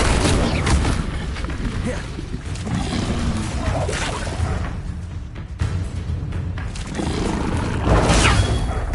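Incendio fire spell cast in the game Hogwarts Legacy, a loud roaring whoosh of flame with deep booming bursts and growls swelling and fading over several seconds, close and powerful, no talk over it.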